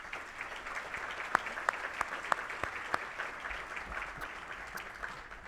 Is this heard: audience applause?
yes